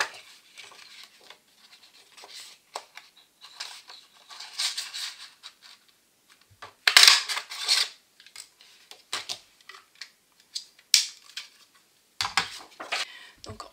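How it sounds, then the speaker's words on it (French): Paper scrap from a sheet of tone-on-tone card being cut into a small label, giving close, irregular snips and crisp rustling bursts in quick clusters, with handling pauses between, alone without talk. "on la découpe dans une chute de notre papier"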